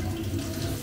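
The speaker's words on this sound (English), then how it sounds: "I guess I'll start running my water." Water runs steadily from a kitchen tap into a sink in Budapest, a close, continuous gush with no talk.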